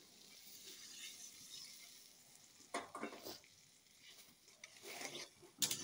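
Water goes into a pan of frying prawns, yard-long beans and potatoes. A faint background sizzle swells into louder hissing, spattering bursts, then settles again, with no talking.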